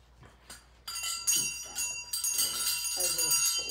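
Hand bells ring in a puja ceremony held before a fire ceremony on Makar Sankranti at Treasure Island, Florida, with several bells jangling at once in a bright, sustained wash and faint voices beneath.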